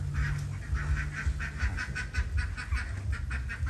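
Many ducks on a farm of about a thousand birds raised beside a house quack together in a steady, overlapping chorus. The honking calls repeat in rhythmic bursts over a low rumble, loud and fairly close.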